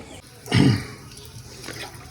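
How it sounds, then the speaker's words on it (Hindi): Water is poured into a cleaned pot while pet birds are being fed, a short gushing splash near the start and then a faint trickle and drips in a quiet room. "अब इस बर्तन को अच्छे तरीके से साफ़ करके तब तक मैं पानी डाल लेता हूँ"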